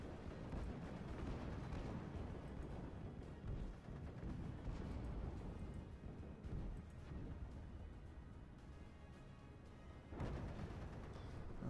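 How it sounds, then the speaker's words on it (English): Artillery strikes exploding in the World War II strategy game Steel Division: Normandy 1944, a dense rolling barrage of booms and rumbling blasts, continuous and heavy, with another burst of impacts near the end. "As the artillery comes in"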